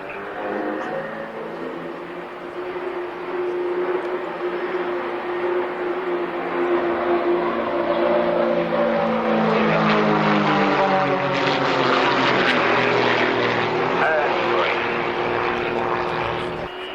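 Aerobatic propeller airplane with a Textron Lycoming engine performing at the 1998 Woodford airshow, a loud sustained droning roar that rises and swells as the aircraft passes close, its pitch sliding with the manoeuvres.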